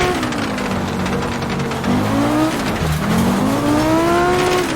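Audi Group B rally car in a racing sim, engine revving up and down loudly with quick gear shifts and a dip around corners, close and continuous with faint tire noise.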